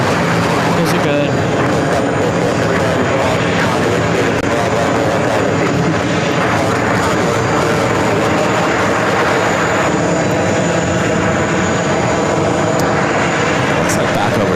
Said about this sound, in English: WestJet coming in from Calgary. Going 737-800.